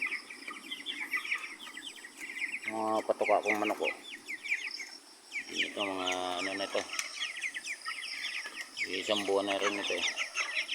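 Farm chickens cluck and call steadily in the background during a storm, while someone speaks in several bursts over them.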